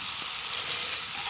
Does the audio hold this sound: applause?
no